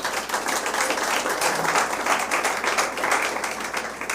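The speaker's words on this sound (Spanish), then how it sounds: "Denle un aplauso al Señor." A Spanish-speaking church congregation breaks into applause during a sermon, loud close clapping with many hands, busy and rhythmic throughout, no speech over it.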